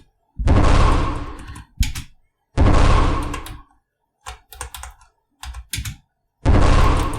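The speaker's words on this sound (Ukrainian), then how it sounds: "Треба натиснути пробіл. Ось, І керувати лише клавішами на клавіатурі." Computer keyboard keys, including the spacebar, are pressed loudly and close by, in long dense runs broken by pauses and short scattered taps, with no voices.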